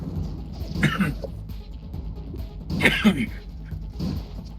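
A couple of coughs a few seconds apart, up close, with low murmuring talk in between.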